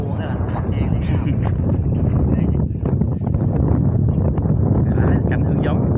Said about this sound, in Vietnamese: Trời gió hù hù hù.